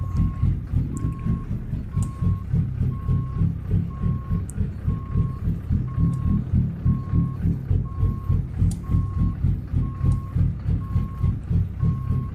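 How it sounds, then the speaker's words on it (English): Reversing beeps from a truck in American Truck Simulator repeat in a steady, evenly spaced rhythm over a continuous low engine rumble while the rig backs up, with a few faint clicks on top. "I'm just backing up using my mirrors"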